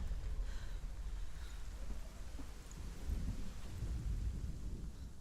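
Rain pours with a low rumble of thunder in the video game Hellblade: Senua's Sacrifice, a steady, fairly faint wash of noise with a deep rolling undertone and no speech.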